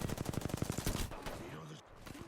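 Automatic gunfire in the battle royale game Apex Legends: a quick, evenly paced string of shots for about a second, fairly quiet, then fading into softer game sounds.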